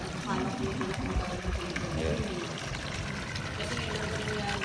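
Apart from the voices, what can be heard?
water pump discharging flood water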